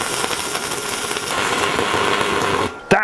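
A stick welding arc lays a weld bead on steel for window bars, a loud, steady crackling hiss that runs unbroken for over two seconds before cutting off, followed by a brief sharp burst.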